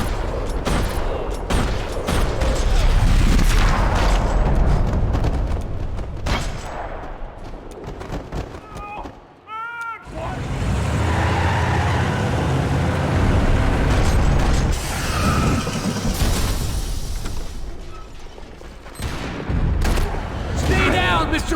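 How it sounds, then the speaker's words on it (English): Gunfire crackles through a parking lot in the video game Max Payne 3, with dense, loud bursts and rattling shots on and off under spoken dialogue, plus a brief quieter lull partway through. "Another parking lot rattling with gunfire."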